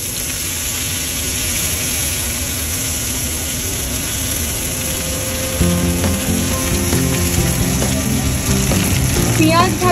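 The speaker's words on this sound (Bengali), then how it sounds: "পেঁয়াজ ভাজাটা খুব কড়া করে যেন না হয়, ফ্লেমটা মিডিয়াম টু হাই হবে।" Onions fry in a pan over medium-to-high flame with whole cumin and a green chilli, a loud continuous sizzle with faint stirring clicks growing busier toward the end, no talk.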